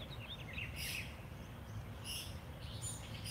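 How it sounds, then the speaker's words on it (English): Faint birds chirping outdoors: a few short, high tweets in three brief bursts over a quiet background hum, with no voices. "I love hearing the birds chirp."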